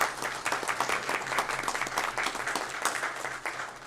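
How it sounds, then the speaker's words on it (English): An audience at a school board of education meeting claps together, a moderately quiet, steady patter of many hands with uneven bursts throughout. "Let's give her a round of applause."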